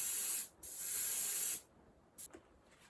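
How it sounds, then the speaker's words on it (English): A spray paint can sprays black onto a model train in two close bursts of hiss, a short one and then a longer one, followed by a brief final puff. "And I'm going to spray from above, like this."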